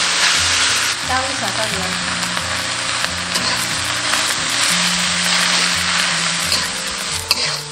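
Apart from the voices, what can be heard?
mustard greens stir-frying in cooking oil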